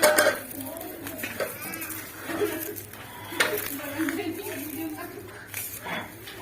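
Spoon clinks and scrapes against a bowl as mint is stirred into spiced potato samosa filling, soft intermittent knocks with a voice and a low background hum throughout.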